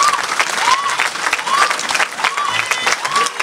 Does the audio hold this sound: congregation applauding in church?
yes